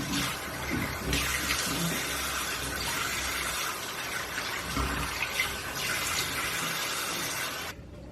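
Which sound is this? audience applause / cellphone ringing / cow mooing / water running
water running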